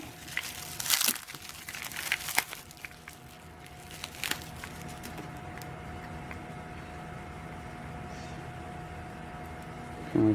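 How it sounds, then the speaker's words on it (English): Plastic packaging sealed with tape being cut and crinkled, with a few sharp crackling bursts early on, then a quieter steady rustle close by. "maybe we'll have to cut this plastic because of the tape"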